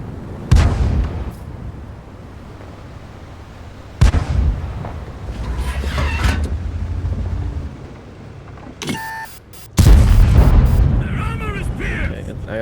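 Tank cannons firing in World of Tanks, several sharp, loud gun blasts spaced a few seconds apart, each followed by rumbling decay and engine drone, with a voice talking between shots.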